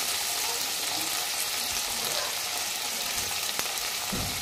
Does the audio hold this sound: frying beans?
yes